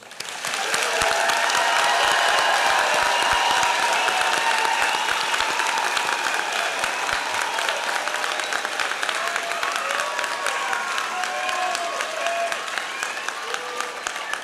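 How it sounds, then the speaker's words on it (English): Sustained, loud applause from a large graduation commencement crowd, dense clapping that holds steady throughout with faint cheering mixed in. "One last time, a big round of applause for our graduates."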